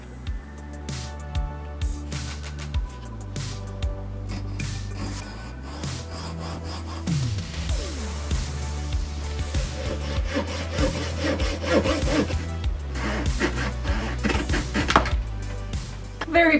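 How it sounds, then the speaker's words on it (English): Hand saw cutting the corners of wooden pieces for a dice tower box: rhythmic back-and-forth rasping strokes, close and steady, with brief pauses between cuts. "trim down the corners of these, and that's the last bit of cutting I need to do"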